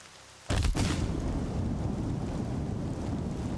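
Steady, heavy rain in the Horizon Zero Dawn video game bursts in suddenly and then holds as a dense, even hiss with a low rumble beneath, loud and continuous with no speech.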